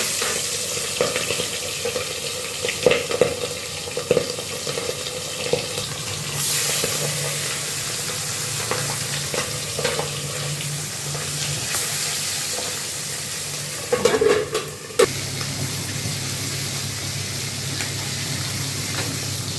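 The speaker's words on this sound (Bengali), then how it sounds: "এই দেখো তেল গরম হয়ে গেছে। গ্যাসটার ফ্লেমটা একদম কমিয়ে দিয়ে পাবদাগুলোকে আস্তে আস্তে" Whole pabda fish fry in hot oil over a low gas flame, giving a continuous close sizzle and hiss with occasional louder spatters as pieces are turned.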